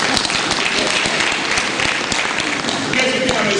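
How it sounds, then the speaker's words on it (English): Audience applause at a 75th birthday celebration and book presentation, a dense steady clatter of many hands filling the room for several seconds, fairly loud and close. "Clap for me, clap for me."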